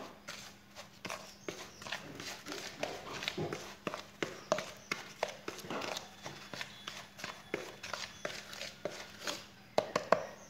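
Hands mix and squeeze a moist fish bait with coconut powder, made for tra, pomfret and tilapia, in a rapid, steady series of soft squelching, slapping pulses, close and continuous throughout.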